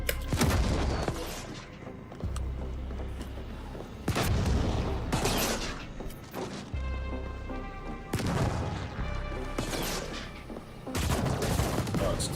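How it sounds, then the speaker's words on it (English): Mortar fire in The Ascent video game, heavy booming blasts and bursts of explosive gunfire landing in several loud waves, with rumbling between impacts and brief lulls. "Someone's using a mortar."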